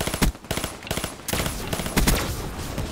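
M16 burst fire in Black Ops 3, several quick three-round bursts crack close and loud in rhythmic clusters with short gaps between them.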